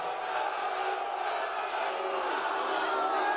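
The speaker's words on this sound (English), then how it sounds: "What do you make of this crowd reaction when you came out?" A large crowd at the UFC 311 press conference roars and cheers in a continuous, dense wall of shouting voices, steady and loud across the whole moment.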